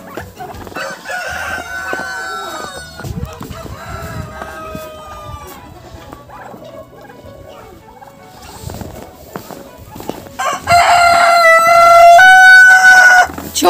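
Several chickens cluck and chatter steadily, then a rooster crows loudly and close near the end, dominating the final seconds.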